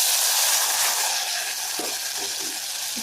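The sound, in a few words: tomato and curry leaves sautéing in oil for herbal rasam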